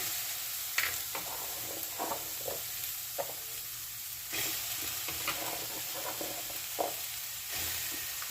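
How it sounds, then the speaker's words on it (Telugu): Capsicum sizzles and fries in hot oil in a pan, a steady loud hiss with occasional stirring scrapes and clinks throughout. "ఇప్పుడు క్యాప్సికమ్ ఫ్రై చేసుకుందాము."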